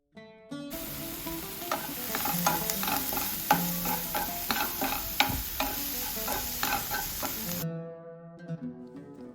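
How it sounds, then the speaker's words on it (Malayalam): Onions with green chillies, curry leaves and salt are sautéed and stirred in a pan, giving a steady close sizzle broken by stirring scrapes, with no talk. "പിന്നെ പാകത്തിനുള്ള ഉപ്പും കൂടി ചേർത്ത് കൊടുത്തിട്ട് ഇതൊന്ന് വഴറ്റിയെടുക്കണം."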